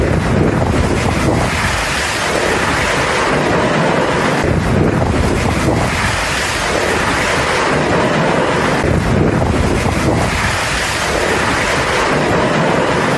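Violent cyclone wind from Cyclone Mocha, which flattened makeshift shelters at the Cox's Bazar refugee camp, roars loud and steady against the microphone in surging gusts, with no voices.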